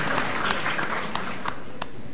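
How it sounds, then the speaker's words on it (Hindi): An audience at a kavi sammelan poetry gathering claps. The clapping is steady and moderately loud, with a few sharper individual claps standing out near the microphone. "और प्लीज उनके लिए एक बहुत बहुत जोरदार तालियां बजाएं"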